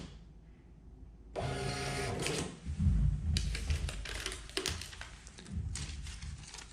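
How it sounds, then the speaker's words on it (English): A Star TSP 100 receipt printer runs off tickets, a loud continuous mechanical whirring and buzzing with bursts of rapid chattering feed noise over several seconds. "And now if I want to print the tickets,"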